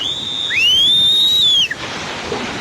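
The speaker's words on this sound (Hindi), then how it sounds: "लोग सीटियां मारकर दूसरी तरफ फंसे लोगों को सावधान करते नजर आ रहे हैं" A loud, sharp human whistle of warning rises and holds for about a second outdoors during monsoon flooding, then cuts off, leaving a rushing ambient wash behind.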